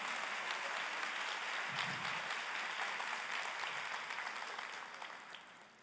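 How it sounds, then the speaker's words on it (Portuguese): Broad, steady applause from a church congregation fills the space at moderate level, fading slightly toward the end without any talking over it. "Aplauda o Senhor."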